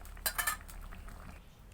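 Utensils clinking against a pan while an egg and potato curry is stirred, a few quick metallic taps close together near the start, then quiet scraping.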